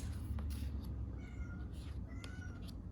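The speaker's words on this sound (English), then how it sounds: "My cat is meowing at the door." A pet cat meowing at a door, several thin, plaintive cries scattered over a quiet low hum, moderately close and with no talking.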